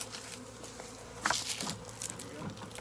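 A bee swarm buzzes near a hive, a dense, faint hum of many insects with scattered rustling and tapping close by.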